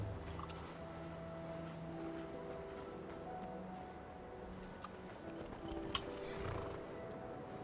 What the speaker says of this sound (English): Here, horsey, horsey,